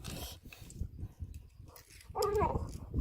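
Three-month-old husky puppies whimper and whine while playing at a rural home, with soft scuffling followed by a louder, higher-pitched whine near the end.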